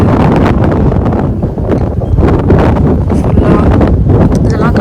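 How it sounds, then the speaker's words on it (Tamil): Wind gusting across a spring front-yard garden in the USA, loud buffeting roar over the microphone that persists throughout, with a person speaking under it. "இப்போ வந்து நல்லா காற்று அடிக்குது"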